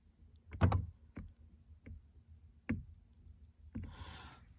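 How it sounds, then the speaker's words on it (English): A car power window switch is pulled and held in the closed position, and a few faint, separate clicks sound against quiet background hum, with a brief whirring rush at the end. "if you pull and hold the button in the closed position, listen for the click"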